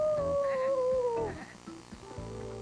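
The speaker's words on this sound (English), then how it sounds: "Oh no, that's the real wolf." A wolf howls in a children's fairy-tale television show, one long wavering howl sliding downward over about a second, close and fairly loud above a bed of background music.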